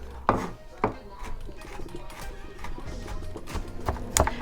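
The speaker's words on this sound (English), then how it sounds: "Just keep dicing it up and dicing it up until you feel you have the right consistency" Knife dicing garlic on a cutting board, a run of irregular wooden taps and chops, some close and sharp, with faint kitchen background.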